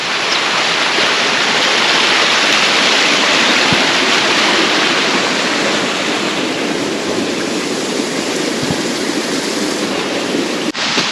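Waterfall at Maleny Botanic Garden, a steady close roar of falling water with broadband rushing that stays loud and even throughout, no voices.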